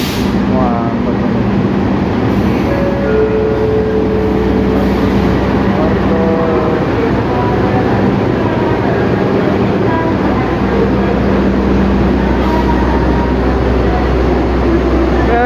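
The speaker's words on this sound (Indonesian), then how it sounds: "ini ada Argo Cirebon masuk jalur 5 nih teman-teman" Argo Cirebon passenger train hauled by a CC206 locomotive pulls into track 5 at Bekasi station, a steady loud rumble of rolling wheels and engine with tonal whine, a noisy generator droning throughout and people talking faintly in the background.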